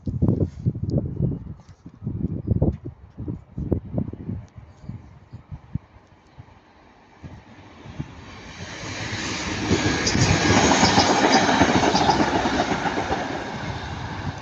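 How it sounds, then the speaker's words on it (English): A single Northern Class 150 diesel train running from Manchester Piccadilly to Chester passes at Ardwick, first heard as rhythmic clickety-clack of wheels over rail joints, then a swelling diesel roar and rushing noise as it goes by close. "past about now is going to be Northern Class 150 going from Manchester Piccadilly to Chester"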